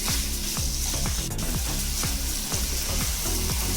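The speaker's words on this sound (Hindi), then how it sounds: "2 मिनट इसको चलाते हुए पकाएंगे और जब तक पकाएंगे इसका कलर चेंज ना हो जाए" Chicken spring roll filling sizzling as it is stirred and cooked in a pan on low heat, with a steady close-up fry and repeated scraping strokes of the spoon.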